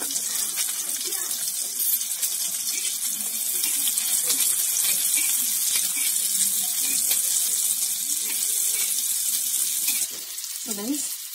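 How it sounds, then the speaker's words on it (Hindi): Green chillies frying in about a teaspoon of mustard oil, a dense, continuous crackling hiss held close and loud throughout, easing slightly near the end, with no speech. "सो गाइस मैंने 1 टीस्पून ऑयल ले लिया है सरसों तेल। अब इसमें मिर्चों को मैं डाल दूंगी। देखिए अब मिर्चें होंगी अच्छे से फ्राई।"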